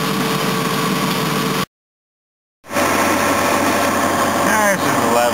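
A vehicle engine drones steadily while driving at night through fog in the survival game Rust, a constant mid-pitched hum that cuts out briefly and resumes, with no talking over it.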